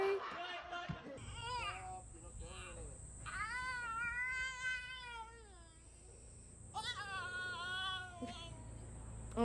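A cat meows repeatedly near a cat tree, giving several drawn-out, wavering meows, some close and loud, with a person talking briefly at the start.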